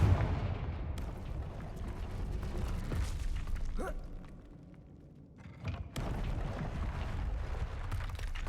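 The Confringo blasting spell in Hogwarts Legacy goes off as loud booming explosions with heavy rumbling thuds, then a brief lull and another sharp blast followed by sustained roaring.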